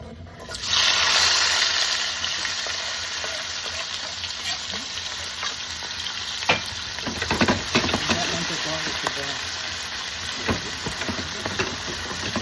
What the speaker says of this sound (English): I'm going to scrape it into the fryer